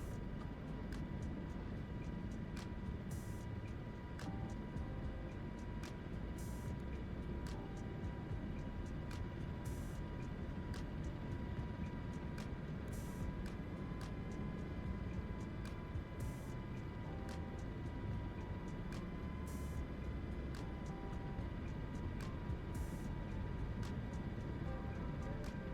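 MH-60 Blackhawk helicopter in flight in Microsoft Flight Simulator 2024, a steady droning rotor and engine hum with regular faint ticking pulses, constant and unchanging throughout.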